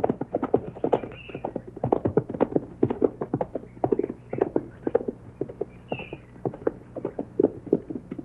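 Horses' hooves clip-clop in a steady, quick walking rhythm of many close, crisp hoof strikes on hard ground, with an occasional faint snort or whinny.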